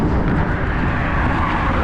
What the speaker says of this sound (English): As a speeding Mack truck goes by.